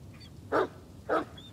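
A dog in the Blair Witch video game gives two short barks about half a second apart, moderately close, over a faint low background hum with no talking.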